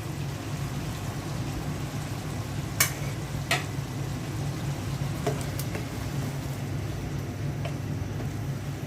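Boiled potatoes frying in a tomato and spice mixture for a fish curry, a steady low sizzle with a few sharp clacks of a spoon against the pot.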